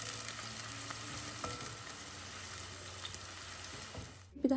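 Small onions sautéing in coconut oil in a traditional uruli for Kannur-style beef give a steady, close, even sizzle with faint crackles, which dips briefly just before the end.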